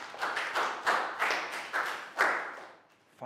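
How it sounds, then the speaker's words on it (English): Small classroom group clapping during a primary maths lesson, a few uneven bursts of hand claps in quick succession, close and moderately loud, tapering off at the end. "Big round of applause for Chu."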